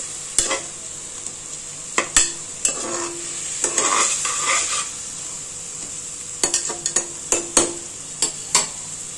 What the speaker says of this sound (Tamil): நல்லா வதங்கிட்டே இருக்குது. இந்த ஸ்டேஜில் நம்ம நல்லா கொஞ்சம் வதங்கட்டும்.